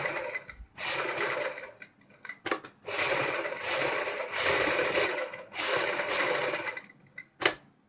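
A sewing machine stitches buckram onto a kurti neck piece for a lotus neck design, running in several loud bursts of rapid needle chatter separated by short pauses and clicks.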